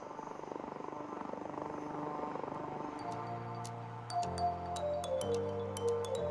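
A light utility helicopter flies an aerobatic display at the Aero India 2021 air show, its rotor and engine droning steadily and fairly close, with a whining tone and a shift in pitch partway through.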